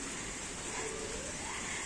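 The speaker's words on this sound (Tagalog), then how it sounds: "Ay, mahinang ulan niya." Light rain falls on a terrace as a soft, steady hiss, faint and even throughout with no voices.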